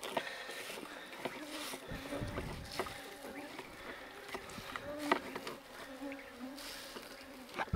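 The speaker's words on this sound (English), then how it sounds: "Oh, there's a lot of bugs out there." Insects buzz and whine outdoors around a boat on a lake during a camping and walleye fishing trip, a faint steady drone with passing flies close by and bits of quiet talk.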